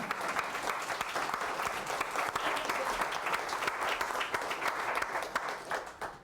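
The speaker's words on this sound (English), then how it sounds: "You want to clap for that?" A room full of people claps steadily and warmly at a talk on family and cemetery history, a dense run of hand claps lasting several seconds before thinning out at the end.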